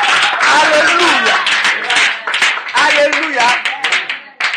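A church congregation claps in acclamation during a lively worship service, loud sustained clapping mixed with voices and shouts throughout, dense and close.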